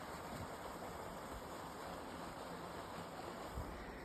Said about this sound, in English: There's that waterfall down there.